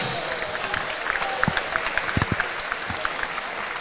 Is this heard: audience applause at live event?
yes